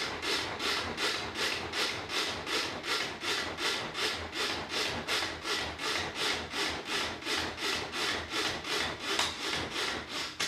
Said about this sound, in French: On va venir, tout simplement, venir hacher nos courgettes